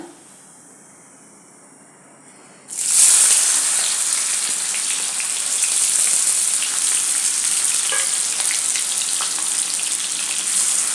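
Chopped onion drops into hot oil with cumin for pav bhaji, starting an abrupt, loud, steady hiss and crackle that fills the rest of the clip after a quiet start.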